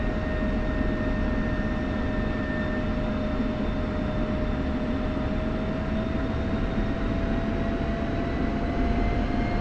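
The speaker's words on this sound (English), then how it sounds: "Taxiing over to runway 23 in acrylic" A simulated F-16 fighter jet taxiing in a flight simulator game, giving a constant, even engine roar with steady high whining tones and no change in level throughout.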